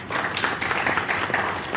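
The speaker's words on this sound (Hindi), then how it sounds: "उसके लिए तालियां।" Applause from an audience at a Sanskar Bharati cultural gathering in Nanded, a steady dense patter of clapping filling the short stretch with no voices over it.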